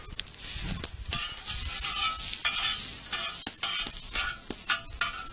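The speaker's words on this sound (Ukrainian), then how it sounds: "Будемо жарити картошку." Potatoes fry in a pan with a steady, close sizzle, broken by repeated scrapes and clatters as they are stirred and turned.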